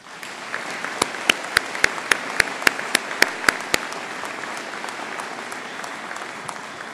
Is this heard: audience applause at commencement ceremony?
yes